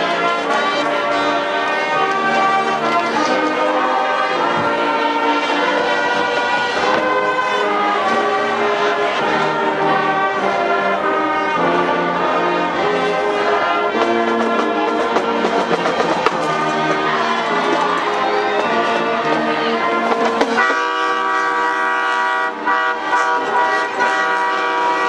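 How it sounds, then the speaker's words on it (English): Waskom school song drifting across from the far side of the stadium at a high school football regional championship, sustained band-like harmonies playing continuously and fairly loud, shifting to a different chord texture near the end. "Have a little bit of bleed over from the Waskom school song."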